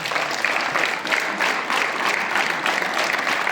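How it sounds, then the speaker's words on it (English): Students clap together in a classroom, a dense, steady burst of many hands that holds at an even level for the whole stretch, with no talk over it. "Clap together."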